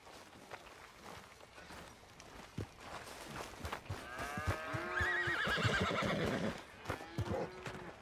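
A horse in the open-world Western game Red Dead Redemption 2 gives a loud, drawn-out whinny after scattered hoof clops. A few more hoof sounds follow, with no talking.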